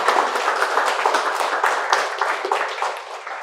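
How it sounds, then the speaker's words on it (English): Sustained applause and clapping from an audience honoring 22 students who scored over 600 marks in NEET 2023, dense and steady throughout. "A big, big, big round of applause to all of you."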